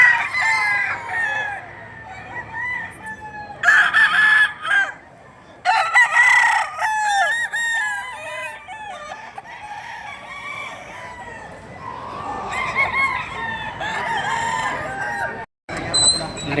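A young gamecock rooster crows several times close by, and other fowl cluck around it in a farmyard. A person speaks briefly in the background.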